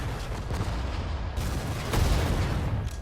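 Battlefield gunfire and artillery in the video game Sudden Strike 4, a dense, loud rumble of shots and booms that continues throughout.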